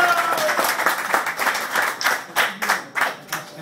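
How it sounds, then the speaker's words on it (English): Audience at a boxing press conference breaks into clapping, a steady patter of many hands swelling and fading in bursts over a few seconds, fairly close with no talk over it. "Come on, you guys, a bigger applause for Kerry."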